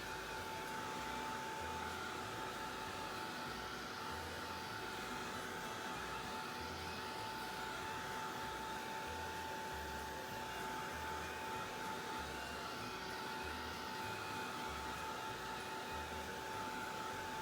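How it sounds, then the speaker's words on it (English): A heat tool blows steadily to dry wet blue paint on a card background, a continuous airy whir with a low pulsing hum, close and unbroken throughout, with no talking. "Hardest part of this background is waiting for the heat tool to dry it all."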